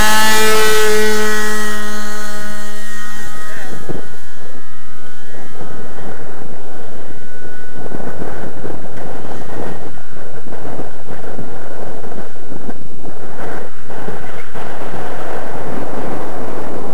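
A SPAD HL model aircraft engine buzzes loudly at first, then fades and swells as the plane flies in strong gusting wind, with heavy wind buffeting the microphone throughout.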